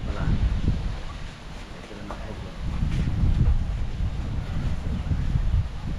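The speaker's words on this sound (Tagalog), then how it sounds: "hangin mga idol napakaingay na ng hangin" Strong wind buffets the microphone in rough, surging gusts with a low rumble, loud and continuous throughout.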